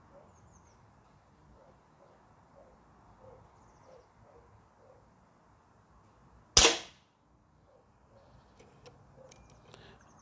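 A Feinwerkbau P8X air pistol fires a single 4.51 mm, 7.33-grain pellet, one sharp loud crack standing alone over faint background ticking and room noise.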